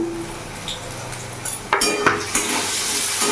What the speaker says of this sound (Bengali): আলুটা আমি ভালো করে ভেজে নেব